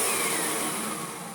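A Kirby Sentria 2 vacuum cleaner runs as a blower, a loud continuous rushing motor whine with airy hiss, steady and close, easing slightly toward the end.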